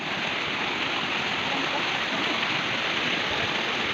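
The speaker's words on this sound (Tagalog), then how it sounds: "Ito yung paanan, yung paanan ng falls." Taybungan Falls in Oriental Mindoro, heard from the foot of the falls as a loud, steady broadband rush of falling water, continuous and close with no pauses.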